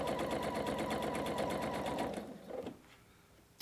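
A sewing machine stitches quilt trapezoid units in a steady, rapid run of needle strokes, close and loud, then slows and stops with a couple of faint clicks at the end.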